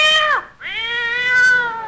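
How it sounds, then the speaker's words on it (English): A cat meows loudly and insistently, two drawn-out cries in quick succession, the second longer and wavering, heard up close and clearly with no talking over it. "why is the cat making all that fuss?"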